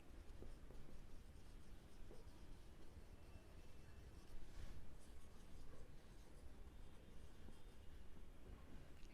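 Steady, faint scratching of a pen across paper as an accounting entry is written out during a Class 12 shares lesson, continuous and close over a low background hum, with no talking.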